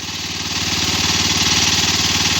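A water pump engine runs steadily and loudly close by, with a fast, even mechanical throb and chugging pulse that holds constant throughout, with no voices.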